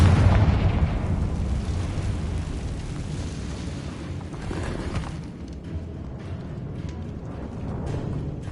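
A Confringo blasting spell goes off in an abandoned mine cave in Hogwarts Legacy, opening with a loud boom that decays into a long rumbling, debris-filled roar that slowly fades.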